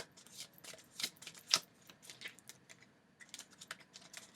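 Tarot cards shuffled and drawn up close, a quiet run of crisp papery flicks and taps in irregular bursts with a brief pause midway.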